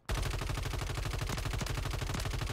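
Rapid, steady gunfire from a shotgun in a video game, with dense repeated blasts sounding close and loud throughout, with no talking.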